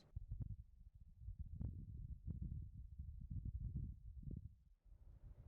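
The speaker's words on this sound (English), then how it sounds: "This is the sound of wind on Mars." Low, muffled rumbling gusts of wind on Mars buffeting a rover microphone, rising and falling in soft irregular bursts with thin hiss at the end.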